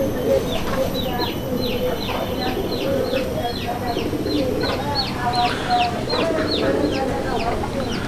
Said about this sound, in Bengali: এই জোড়াটা আপনাদেরকে খাঁচার বাহির থেকে ডাকটা শোনাচ্ছি